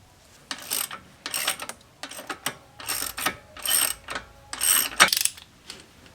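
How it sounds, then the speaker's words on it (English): A bolt being worked into the lower control arm of a Jeep JL during a Metalcloak 3.5-inch lift install: six or seven separate bursts of metallic ratcheting and grinding, close and fairly loud, with short pauses between them. "with the bolt we saved earlier, we're going to get that into the lower control arm now."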